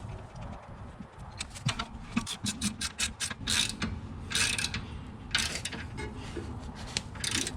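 Rear suspension of a 2021 Mazda3 Turbo hatchback being bolted into the strut, with a run of quick metallic ratcheting clicks in bursts and a few clanks, close and moderately loud.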